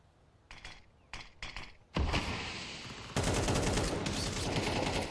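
Close-range gunfire in a Counter-Strike 2 match, including MP9 shots. Sharp separate shots come first, then dense rapid bursts of automatic fire. The fire is loud and sustained, with no talking.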